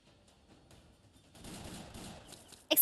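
Gunfire volley and explosions in the video game Arknights: a quiet lead-in swells into a sustained broadband burst of rattling shots and blasts, ending in a sharp loud bang.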